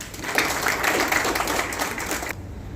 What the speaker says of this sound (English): A big round of applause, gentlemen.